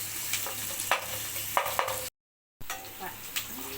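Onions sautéing in a pan before spinach is added, a low sizzle broken by a few spatula scrapes and knocks, with a brief silent gap in the middle.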